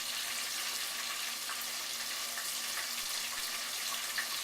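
Bream fish frying in hot oil in a pot filled about half full, giving a steady, dense hiss and crackle with small pops, close and continuous throughout, with no voices.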